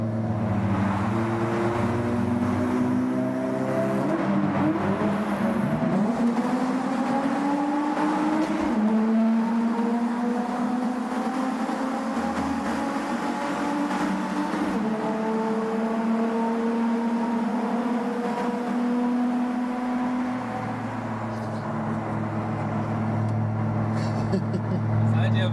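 A car accelerates on the autobahn, its engine droning loudly throughout with rising and falling whine as it climbs through gears, recorded from inside while a person talks over it.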